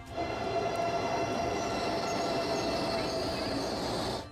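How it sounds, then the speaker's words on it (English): A Siemens-built Turkish high-speed train runs past with a steady, loud rumble and a high whine, holding constant throughout with no talking. "is the Turkish high-speed train"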